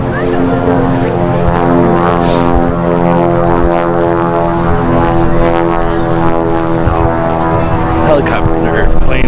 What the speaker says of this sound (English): Helicopter plane is so loud.